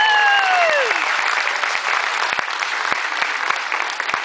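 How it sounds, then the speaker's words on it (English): Audience applause for young children brought up on a cruise ship stage show, loud steady clapping with a few sharp individual claps standing out near the end and a faint voice trailing off at the start. "Ladies and gentlemen, give these youngsters a big round of applause."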